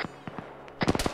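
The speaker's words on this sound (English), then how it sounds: "He is shooting at us." Enemy gunfire in a military shooter game set in Afghanistan, heard as scattered distant pops early on, then a dense burst of several sharp nearby shots near the end.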